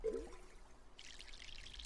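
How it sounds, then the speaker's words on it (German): A plant gets watered in the video game My Sims: a short tone sounds first, then a soft, faint pouring trickle follows. "Gießen wir den hier mal."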